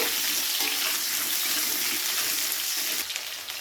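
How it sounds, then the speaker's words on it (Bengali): Potatoes fry lightly in a pan, a dense close sizzle that holds steady and softens slightly toward the end, with no talking. "প্রথমে আলুগুলোকে হালকা করে একটু ভেজে নেব।"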